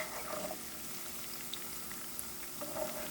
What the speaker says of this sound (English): Now that it's bubbling away like this, I'm going to turn the heat down.